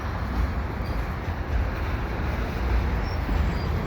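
CPKC freight train rolling slowly past Lachine station in light rain, a steady low rumble of wheels and cars, close and continuous without breaks.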